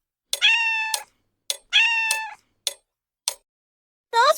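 A cat meowing alone in a run of distinct calls: two long drawn-out meows, a few short chirps, and a final rising meow, close and clear with silence between them.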